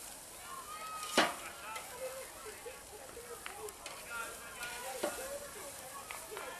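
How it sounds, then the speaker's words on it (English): Burger patties searing on a very hot grill, a soft continuous sizzle with a sharp clank and scattered scraping as they are nudged, heard close but faint. "Once it starts to sear, we'll just give them a little bump, just so they don't stick."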